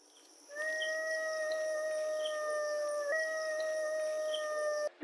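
A cartoon jackal lets out a long, steady howl with clear harmonics, alone and fairly loud. The pitch steps up slightly partway through, and the howl runs unbroken for about four and a half seconds before cutting off.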